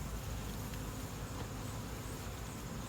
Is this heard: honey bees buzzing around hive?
yes